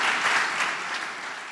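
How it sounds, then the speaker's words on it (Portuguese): A church congregation at a Sunday service bursts into applause, a brief, fairly soft wash of many hands clapping together without any speech over it. "Uma salva de palmas para o Senhor."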